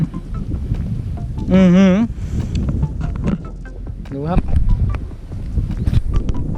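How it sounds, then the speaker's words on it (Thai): Strong wind on a mountain skywalk buffets the microphone with a constant loud, low rumble, while a man makes brief exclamations over it. "ลมอาจจะแรงนิดนึงนะครับ ต้องขออภัยเสียงลมด้วย"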